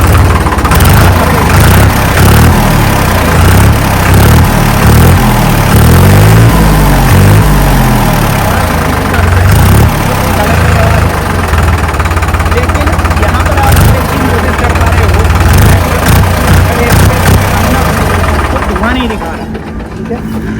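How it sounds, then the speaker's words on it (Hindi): A New Holland 3630 Super Plus tractor diesel engine runs steadily close by, a loud low idle with a pulsing knock that carries throughout and eases slightly at the very end, while someone talks over it. "ये दोस्तों सुपर प्लस है, इसकी भी आप लोग आवाज़ सुन लो"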